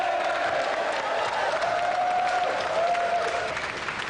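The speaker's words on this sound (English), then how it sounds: "And a round of applause again for our champion, John Beverly." Sustained applause from a TV game show studio audience for the champion, steady clapping with a faint tone ringing underneath, holding throughout before easing slightly.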